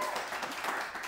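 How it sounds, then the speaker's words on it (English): Studio audience applause fills a brief moment on a web talk show, a dense, steady wash of clapping that stays even from start to finish. "I know you love the applause."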